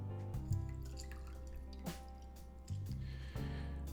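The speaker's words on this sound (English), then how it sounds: "squeeze the lemon all inside of the honey water" A lemon is squeezed by hand into honey water in a Yeti Rambler tumbler: a few close, quiet squishes and juice drips spaced apart against near silence.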